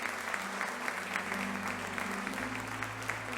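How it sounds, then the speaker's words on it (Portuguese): A church congregation claps together in steady, dense applause, close and sustained throughout with a low held organ or keyboard tone beneath. "Você pode aplaudir ao Senhor por essa palavra,"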